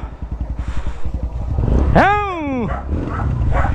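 A newly acquired motorcycle idles with a low, rhythmic putter, close by, and a voice rises and falls over the engine partway through.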